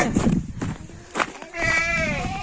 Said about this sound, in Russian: Козлы голодные, видишь, молчат стоят, а ты орешь.